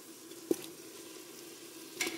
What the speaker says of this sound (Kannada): ಇವಾಗ ಒಳ್ಳೆ ಸಕ್ಕತ್ತಾಗಿರೋ ರೆಡ್ ಮೀಟ್ ಇದೆಂತ ಆಡ್ ಮಟನ್ ಇದು ಹಾಕೊಂತ ಇದ್ದೀನಿ.